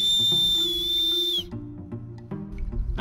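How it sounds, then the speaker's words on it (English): A one-handed finger whistle for a loud taxi-style call: a single sustained, steady, piercing high tone about 1.5 seconds long. It cuts off sharply, leaving quiet low room noise. "now the one-handed whistle."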